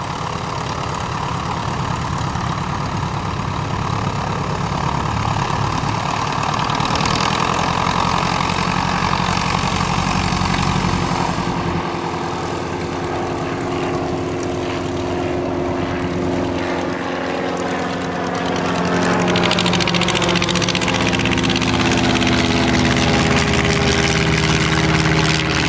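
A Rose Parrakeet biplane's propeller engine runs loud and steady at a vintage biplane fly-in, then swells and shifts pitch as the aircraft takes off and departs, with no talk over it.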